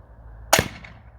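Cobra Siege pistol crossbow fires a bolt from its 8-bolt magazine, nose angled up: one sharp, close snap with a brief thwack and quick decay, alone against a quiet background.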